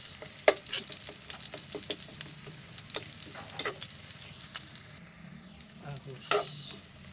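Sliced onion frying in a pan for pancit, a soft, steady sizzle with sharp clinks and scrapes of stirring standing out at intervals, fairly close but moderate in level.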